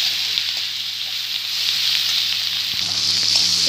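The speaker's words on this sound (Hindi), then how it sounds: "और टमाटर जो रखे थे वो डाल देंगे और अच्छे से मिलाएंगे। एक मिनट तक पकाएंगे इसको।" Tomatoes stirred into a hot pan for bhindi do pyaza sizzle and fry with a steady, loud crackle, broken by a few soft scraping stir sounds; no voices.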